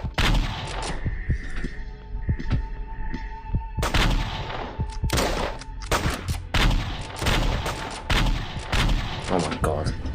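Rapid gunfire from a Flash zombie survival game, 13 Days After, loud repeated shots in dense bursts and single cracks, with game music and effects underneath.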